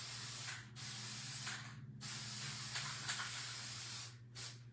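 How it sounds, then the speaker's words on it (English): An aerosol can of Mod Podge sealant hisses in three bursts, a short spray, a long sustained one, then a brief final puff, over a low steady hum. "we're spraying with Mod Podge just to keep it in place"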